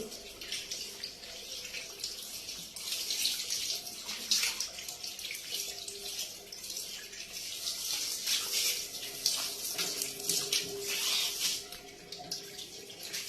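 Water splashes and pours steadily during bathing, a continuous close wash of sloshing with bursts of stronger splashing and no talk.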